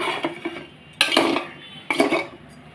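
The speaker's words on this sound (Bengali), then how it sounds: "এখন এটাকে আবার একটু নেড়ে চেড়ে কষাই নিব।" Metal spoon scraping and clinking in a pan as hilsa fish, potato and eggplant are stirred and fried, with two sharper scrapes standing out over a low background sizzle.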